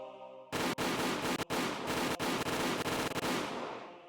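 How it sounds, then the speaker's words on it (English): Sustained automatic weapon fire in the Higurashi video game, a dense continuous rattle of rapid shots lasting several seconds with a few brief breaks, loud and close. "shots could be heard throughout the building"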